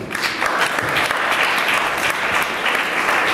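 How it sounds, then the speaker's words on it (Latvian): Steady, dense audience applause at a farming-finance ideas workshop, loud and sustained throughout with many hands clapping at once and no talk over it. "Aplausi!"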